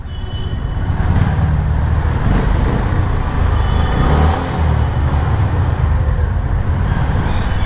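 A Honda CB 350 motorcycle engine growls low and steady, close and loud, with a constant deep rumble throughout and no talking.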